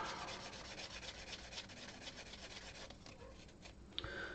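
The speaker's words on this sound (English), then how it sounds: "These Tamiya sanding sponge sheets." Steady, soft rubbing of a Tamiya sanding sponge against a hard plastic model part, continuous back-and-forth scraping up close, with a small tap near the end.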